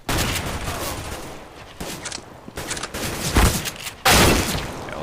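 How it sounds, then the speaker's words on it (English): Mag 7 shotgun blasts from Counter-Strike, several sharp, loud reports spaced irregularly across the stretch, with the heaviest shot near the end and faint game ambience between them. "Mag 7's a defensive gun"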